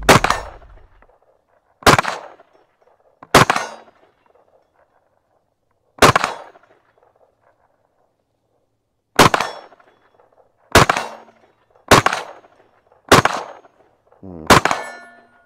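Nine sharp gunshots fired from a weapon during a night test with NVG30 night vision, loud and close, spaced irregularly with short decaying echoes between them.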